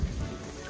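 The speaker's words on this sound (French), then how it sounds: "Et il grêle, on a l'orage, on a, enfin c'est l'apocalypse quoi." Heavy rain and hail from a thunderstorm pelt down continuously during an outdoor film shoot, a dense close drumming with a couple of low thumps at the start.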